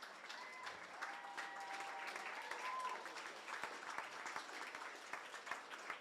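Audience at a fashion show applauding the designers, a faint, thin patter of clapping from a modest crowd, with some cheering and chatter mixed in across the room.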